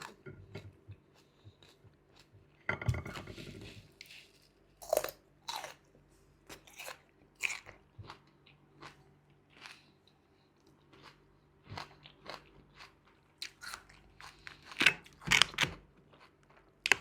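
Candied jujube fruit bitten and chewed up close, crisp crunches in irregular bursts with quiet pauses between them, no voice.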